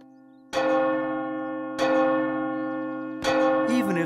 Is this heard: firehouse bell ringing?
yes